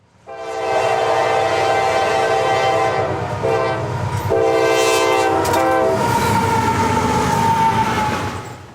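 Near and loud, a train passes through the Selma, North Carolina railroad junction, where two Class I main lines meet, its horn blaring in long blasts over rumbling wheels and rail noise.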